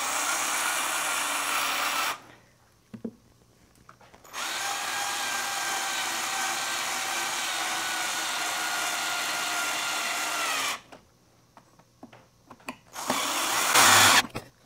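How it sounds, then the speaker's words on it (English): Power drill driving screws into wood pocket holes for an outdoor bench, two sustained whirring runs with the pitch sagging as the screw bites, close by, with a short final burst and clicks between. "I'm gonna go ahead and get these screws in."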